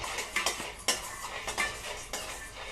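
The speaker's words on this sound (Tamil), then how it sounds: "இப்போ நம்ம இதே சூட்டில் வேர்க்கடலையும் நம்ம லைட்டாக வறுத்துக்கலாம்." Peanuts are lightly roasted in a hot pan, stirred with a metal spoon. About half a dozen quick scraping, clinking strokes come close up over a faint background, with no talk.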